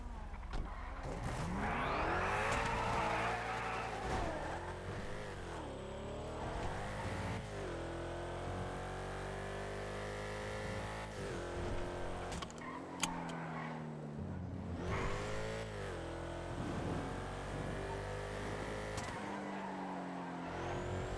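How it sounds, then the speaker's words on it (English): A car engine in a video game revs and climbs through gears with rising and falling tones and brief drops between shifts. It stays fairly constant and moderately loud throughout. "The only good thing about this car is how it sounds."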